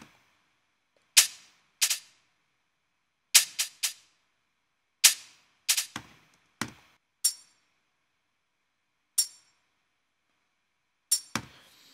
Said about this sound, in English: a little more metallic, playing a little bit of a different rhythm and a little tougher. Another kind of raw sounding hat.